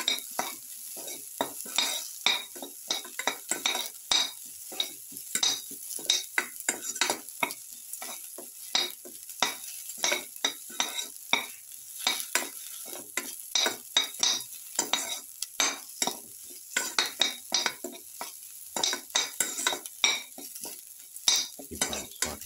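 Fish brindleberry stew ingredients being sautéed in a pan: a steady sizzle under a busy run of close, sharp utensil scrapes and stirring clicks in a quick, irregular rhythm.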